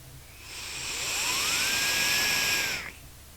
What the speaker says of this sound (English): they say top turbine fan for massive clouds